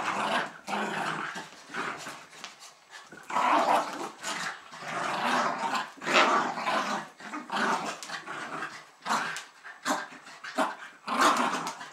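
A pair of two-year-old Jack Russell terriers play-fight over a sock, with near, continuous growling broken by sharp barks and a few whimpers, loud and without pause.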